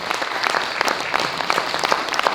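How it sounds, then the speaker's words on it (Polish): An audience claps loudly and steadily for a folk band, dense overlapping hand claps filling the whole stretch without speech. "Wielkie brawa, drodzy Państwo, jeszcze raz"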